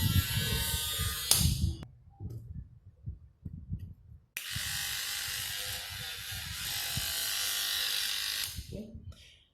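A repaired battery-powered electric toothbrush switching on and buzzing in a steady high whir for several seconds, starting and stopping twice, with handling clicks and knocks between runs.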